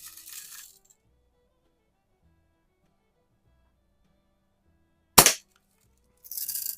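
A Daisy Red Ryder BB gun fires once, a single sharp crack in an otherwise quiet moment, bracketed by brief rustling handling noise before and after.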